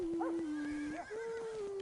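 A horse whinnies while being ridden, a loud, drawn-out neigh with wavering pitch that rises and falls across the whole stretch, heard close and alone with faint hoof clops beneath.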